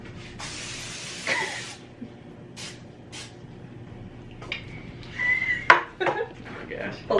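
Cooking spray greasing a 9-inch round baking dish for Irish soda bread: a short burst of hissing spray near the start, followed by kitchen clatter and voices talking.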